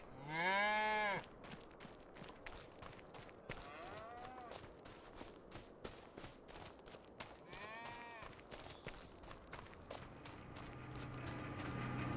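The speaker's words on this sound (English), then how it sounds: "The beef cattle are looking good." Beef cattle mooing on a video game farm, one loud close moo followed by fainter distant lowing and bleating over steady ambient background with occasional footsteps.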